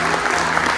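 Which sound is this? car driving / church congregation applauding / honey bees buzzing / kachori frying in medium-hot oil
church congregation applauding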